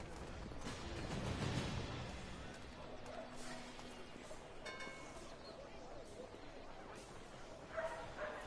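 A dog in the Assassin's Creed III video game gives a few faint yips and short barks over quiet ambient game sound, rising to a brief louder bark near the end.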